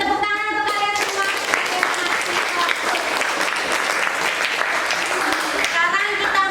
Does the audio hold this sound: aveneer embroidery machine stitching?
no